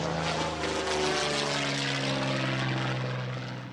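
A Yak-3 warbird roars past at the Flying Legends air display at Duxford, its propeller engine loud, close and steady, easing off slightly at the end.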